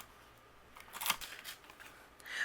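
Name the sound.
scissors trimming paper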